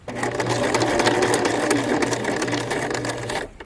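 A sewing machine stitches a pillow in one continuous, loud, rapid run of close needle clatter lasting a few seconds before stopping abruptly.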